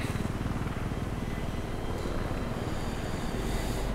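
An attack helicopter in Battlefield 3 on the Sabalan Pipeline map drones steadily, a dense low rotor and engine roar that stays constant and close throughout with no break.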